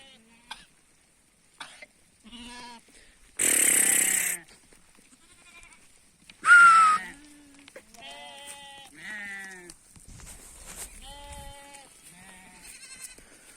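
Sheep and lambs bleat repeatedly, several wavering calls scattered over a quiet background near a village, with a couple of harsh, noisy bursts in between.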